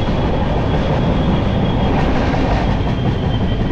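A passenger train runs on South Eastern Railway tracks between Kolaghat and Mecheda, giving a loud, close, continuous roar and rattle of wheels on rail with no voices.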